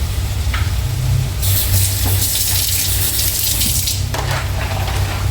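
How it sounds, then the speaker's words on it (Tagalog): A little water is poured into cooked rice in a pan while pork sisig is being prepared, a steady close splashing and sizzling hiss that holds for several seconds over a low background rumble. "Lagyan ko ng konti tubig para lumambot."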